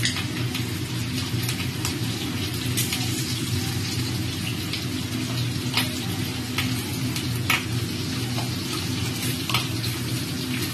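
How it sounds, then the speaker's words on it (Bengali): Eggs frying in a pan until browned, giving a continuous, even sizzle and crackle at close range, with occasional light pops and a low steady background hum. "ডিমটা একটু লাল লাল করে ভেজে নেব"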